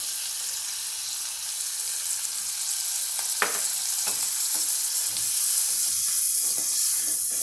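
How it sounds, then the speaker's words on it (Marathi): Garlic fries in butter in a pan, giving a steady bright sizzling hiss with a few faint clicks of stirring, close and even throughout. "लसूण थोडासा लाल होतोय लसूण लाल झाला की मग मी यामध्ये हा पालक टाकणार आहे"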